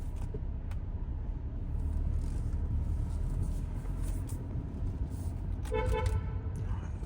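A short car horn toot sounds near the end over steady low traffic rumble, with an engine droning throughout.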